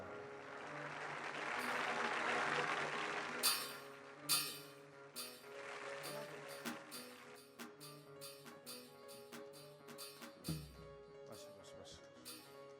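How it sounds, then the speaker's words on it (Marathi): Audience clapping at a Shiv Mahapuran katha, with a brief burst of applause early on, then scattered sharp claps and clinks while a voice carries on over the room. "वाजवा त्यांच्यासाठी मोकळ्या म्हणा टाळ्या."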